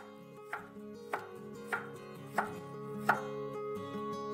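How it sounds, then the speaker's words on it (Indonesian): Kitchen knife coarsely chopping a spring onion on a board, five or six distinct close chops in a slow, even rhythm over a quiet steady background hum. "Lalu satu batang daun bawang saya iris kasar."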